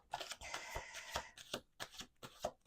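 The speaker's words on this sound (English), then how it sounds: "Okay, we're doing one more shuffle." Playing cards riffle-shuffled in several quick, crisp bursts of fluttering, close-up snaps separated by short pauses, with no voice.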